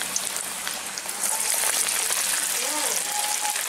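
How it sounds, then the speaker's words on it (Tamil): Vada made from flattened batter deep-frying in hot oil, a steady dense sizzle like rain that grows slightly louder partway through, with a voice faintly under it. "வடை தட்டின வடையை மெதுவாக போட்டுக்கலாம், கொஞ்சம் சிம்மில் வச்சே போட்டுக்கலாம்"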